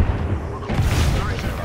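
A frag grenade goes off in Apex Legends, a loud booming blast with rumbling low end that fills most of the short moment, with faint voices around it.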